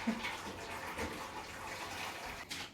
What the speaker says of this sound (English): I'm gonna put boiling hot water on it, or in it